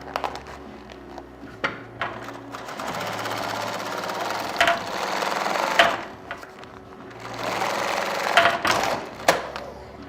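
A sewing machine stitches fabric for handmade bags, running in steady rattling bursts with brief pauses between runs, close and fairly loud, with no talking.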